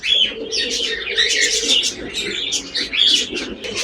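Pet pigeons of a large breed coo and call close by, a busy overlapping chorus of soft warbling coos and sharper chirps, loud and continuous.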